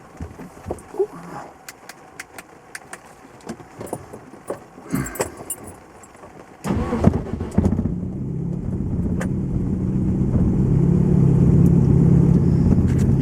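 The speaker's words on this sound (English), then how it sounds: "So I'm going to try and start the car again now and see if it's running a bit better." Keys jangle and clatter, then a Lotus Excel engine cranks and catches with a little choke, settling into a loud, rumbling idle that builds slightly in volume.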